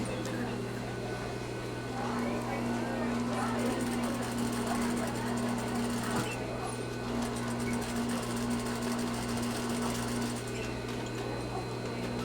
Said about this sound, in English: you're sewing your seam allowance towards your facing